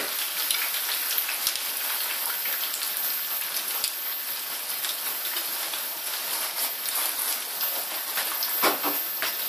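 Liquid crème fraîche sizzles steadily in a hot pan while making pasta carbonara, a dense continuous crackle and hiss with no talking.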